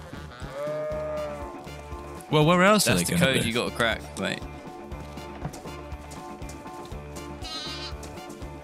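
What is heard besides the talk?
sheep bleating in the video game DayZ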